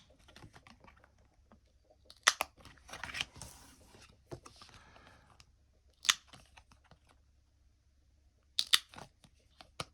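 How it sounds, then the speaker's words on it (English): A small edge-trimming cutter clips the border of a reproduction paper ID card in a few sharp, separate crunching snips, close and fairly loud, with a short burst of cutting in the middle and quiet pauses between. "that will just trim up the edges to make it a little bit more authentic looking"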